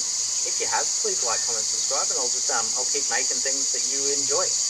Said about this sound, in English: You can hear the cicadas chirping